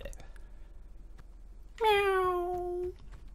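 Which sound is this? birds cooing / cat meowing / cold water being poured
cat meowing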